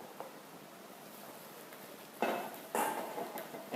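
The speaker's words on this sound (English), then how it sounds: "I'm going to combine this with my soft stirring" A spoon stirs a thick slurry into a lamb pie mixture in a metal pot. Two or three close scraping clinks come late, after quiet room tone.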